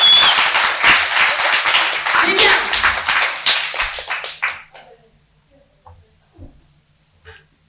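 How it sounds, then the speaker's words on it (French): A conference audience applauds a speaker. The clapping is dense and lively for several seconds, then fades away. A few quiet words are spoken as it dies down. "Déjà, on va les applaudir."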